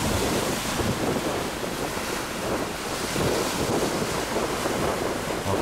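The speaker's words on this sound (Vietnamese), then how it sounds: "Sóng hiện giờ quá mạnh các bạn ơi" Strong storm waves crash and surge around a small fishing boat at sea, a continuous loud roar of surf and rushing water mixed with heavy wind buffeting the microphone.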